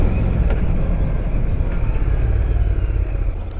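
A motorcycle rides through the city streets of Zürich, its engine giving a steady, close, loud rumble beneath rushing wind noise, with no talk over it.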